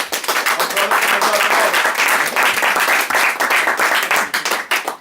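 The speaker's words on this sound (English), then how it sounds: "So Taekwon Golson, give it up for him" Enthusiastic audience applause, dense clapping from a large crowd, loud and continuous throughout.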